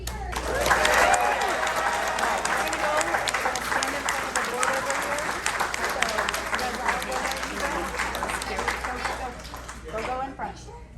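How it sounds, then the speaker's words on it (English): Audience applause at a school district board meeting, sustained clapping from a crowd filling the room for several seconds, with some voices mixed in, gradually thinning out toward the end. "And a round of applause for our next speaker."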